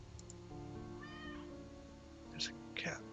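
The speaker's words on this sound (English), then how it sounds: "There's a cat." A cat meows in the video game Deck of Haunts, a couple of short, fairly clear calls near the end over a steady game soundtrack.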